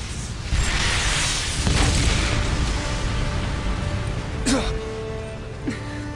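A heavy booming video-game cannon blast in Final Fantasy XIII rolls out and rumbles on, followed by a couple of sharper impacts, loud and close.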